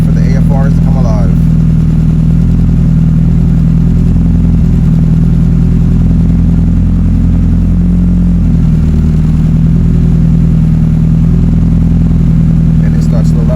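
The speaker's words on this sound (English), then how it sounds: "Engine sounds happier, car runs smoother, right at the target of RPM where I want it at" A built, turbocharged Mitsubishi Evo 8 holds a steady RPM on a dyno with a loud, constant droning engine note. A voice briefly cuts in near the start and end.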